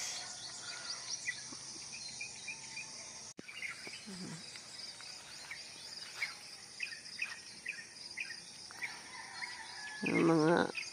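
Birds chirp and call in the countryside among flowering trees, scattered faint tweets over a low insect hum, with a brief louder buzzing burst near the end.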